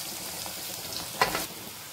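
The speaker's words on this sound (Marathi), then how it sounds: "कांदा आपला चांगला आपण गोल्डन ब्राउन होईपर्यंत आपल्याला भाजायचा आहे।" Chopped onion with cumin seeds sizzles steadily in hot oil left from frying potatoes, a soft continuous crackle with a brief louder stir-like burst midway.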